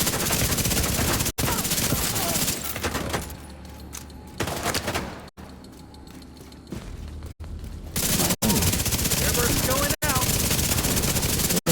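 Bursts of automatic gunfire in The Division 2 during an ambush event, loud dense volleys at the start and end with a quieter stretch between, punctuated by sharp cuts.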